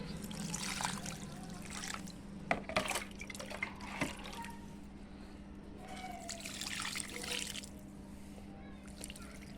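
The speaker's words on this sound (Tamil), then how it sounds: "தண்ணி ஊற்றையில் பாருங்களேன் எவ்வளோ சீக்கிரம் இறங்கிருச்சு தண்ணி" Water drains through potting soil mix for rose plants, trickling and splashing steadily into a container, with a faint low hum throughout and a few soft knocks.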